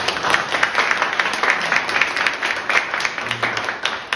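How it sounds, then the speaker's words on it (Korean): Audience at an academic festival applauding steadily, a dense wash of many hands clapping from start to finish with no voices on top. "큰 박수 보내주시기 바랍니다"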